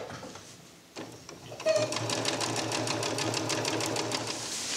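A sewing machine stitching the side of a DIY bridge under quilt, starting after a brief pause and then running in a steady rapid rhythm of needle beats, close and moderately loud, with no voices.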